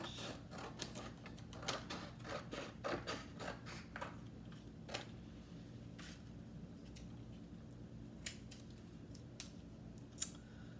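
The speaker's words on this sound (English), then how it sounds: "I'm going to take my paper, cut myself a strip towards the edge." Sharp scissor snips cut a strip from the edge of a sheet of paper, a quick run of crisp clicks early on, then a few isolated cuts spaced apart, close and fairly quiet.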